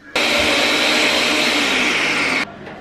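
A kitchen blender runs at full power in a home kitchen, a loud, steady, close whirring roar that starts abruptly, holds evenly for over two seconds, then cuts off, with no talk.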